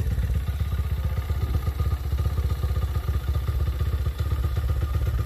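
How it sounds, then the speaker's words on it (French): A YCF Bigy 150 pit bike is kick-started and then runs at a steady idle up close, its single-cylinder engine putting out a loud, even, throbbing putter for the whole stretch, with no talking. "un coup de kick et ça démarre"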